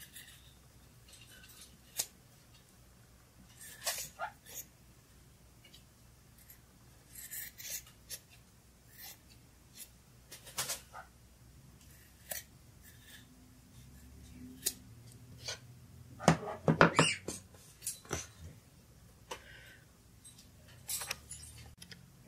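Scissors trimming excess fabric off a sewn plush kitty toy, giving scattered close snips and rustles with a denser burst of cutting partway through, otherwise fairly quiet.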